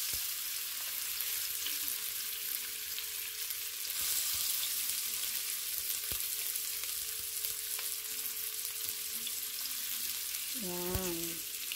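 Onions frying in hot olive oil in a pan, a dense, continuous sizzle heard close up, with occasional faint clicks and a short tonal squeak near the end.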